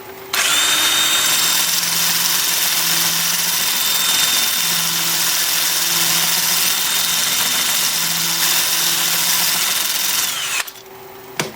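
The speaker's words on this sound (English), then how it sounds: "I have the lathe spinning forward at 400 RPM" A wood lathe spins forward at 400 RPM while turning apple wood, giving a loud, steady motor whine and hum that runs unbroken for about ten seconds before cutting off abruptly.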